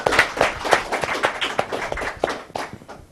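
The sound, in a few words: audience applause for comedian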